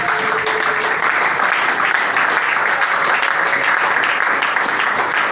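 Congregation at a church service applauding, dense and continuous clapping from many hands that fills the space at steady loudness throughout.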